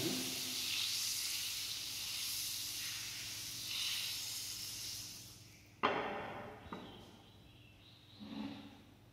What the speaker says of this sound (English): You can see how sizzling the butter is.